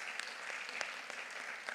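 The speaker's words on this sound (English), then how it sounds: "Please give him a thunderous applause." A conference audience claps steadily at a food-rights event in Uganda, the applause dense and even throughout the short burst, with a few sharper individual claps standing out.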